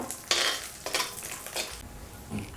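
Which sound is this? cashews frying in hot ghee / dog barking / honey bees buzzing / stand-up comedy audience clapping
cashews frying in hot ghee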